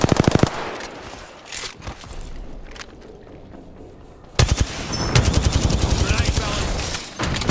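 Rapid automatic gunfire from an Apex Legends match, loud and dense bursts at the start, a quieter stretch with scattered shots and movement, then a sustained heavy volley of repeated shots.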